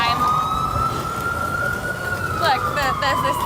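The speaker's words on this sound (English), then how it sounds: "Look, the sirens are partying for you." A wailing emergency vehicle siren sweeps slowly across a New York City street, loud and close over traffic rumble, with a second yelping siren joining briefly near the end.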